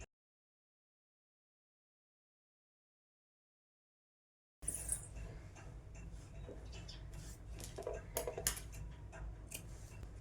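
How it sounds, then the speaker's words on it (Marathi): Scissors cutting blouse sleeve fabric on a tailoring table: after several seconds of total silence, a run of quiet, close ticking snips and small clicks over faint room noise. "तर आता आपण बाही कट करून घेऊया"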